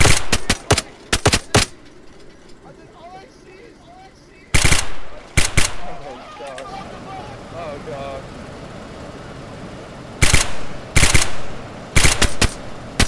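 Bursts of automatic gunfire in an online shooter game crack out in loud, rapid clusters at the start, middle and end, separated by quieter stretches where players talk over the game's ambient sound.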